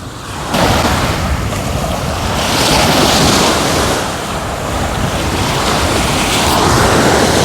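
Sea waves rolling onto a sunny shore with whitecaps, a loud continuous wash of surf that swells and eases, mixed with heavy wind buffeting the microphone.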